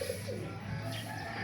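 Racing pigeons coo softly during feeding in a loft with young birds, a low murmuring call sounding close but faint over brief background noise.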